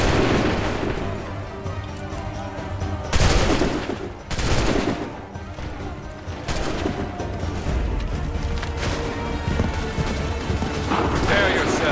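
Musket volleys from Assassin's Creed III crackle and boom in repeated waves across a battlefield, with loud sharp bursts near the start and middle over steady rattling gunfire, while voices shout orders.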